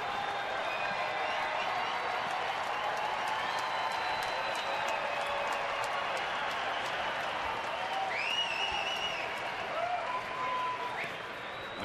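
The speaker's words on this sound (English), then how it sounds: "The crowd revs it up again." A baseball stadium crowd cheers and applauds steadily during an Arizona home game, a sustained roar of clapping and voices throughout, with whistles and shouted calls rising above it near the end.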